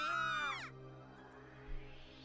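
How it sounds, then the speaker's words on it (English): A scream sound effect from the visual novel Root Double, a high harmonic shriek that bends downward and cuts off after about half a second, leaving a quiet background hum. "Anna couldn't help but scream"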